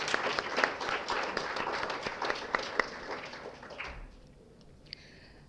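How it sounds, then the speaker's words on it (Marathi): An audience at a Marathi book launch claps together in dense, lively applause that holds steady for several seconds, then quickly dies away to a few scattered claps in a quiet hall. "सर्वप्रथम आपण ताईंचं एकदा जोरदार टाळ्या वाजवून अभिनंदन करूया."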